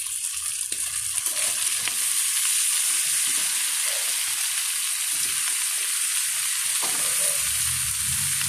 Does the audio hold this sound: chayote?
yes